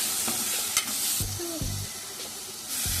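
Paneer pulao masala with chili powder frying in a pan, a steady sizzle with a few scraping stirs and clinks of a spoon against the pot, close and alone with no talk.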